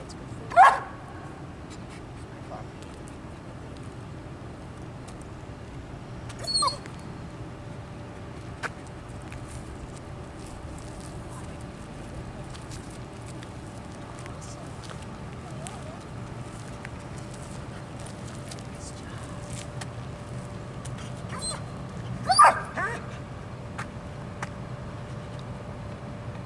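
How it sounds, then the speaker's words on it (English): A dog barks a few times at long intervals, short sharp bursts standing out against a quiet, steady background during outdoor training, with no other clear sounds between. "What's that dog doing over there?"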